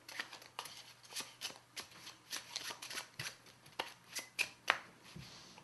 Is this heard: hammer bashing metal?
no